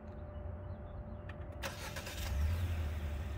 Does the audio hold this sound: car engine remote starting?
yes